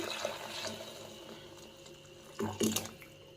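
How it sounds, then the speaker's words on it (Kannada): Black chickpea cooking water poured into boiling rasam, a faint trickle and splash with a louder burst of liquid toward the end, quiet and close. "ಈಗ ನಾನು ಇದಕ್ಕೆ ಕಡಲೆಕಾಳು ನೀರನ್ನು ಸೇರಿಸ್ತೀನಿ"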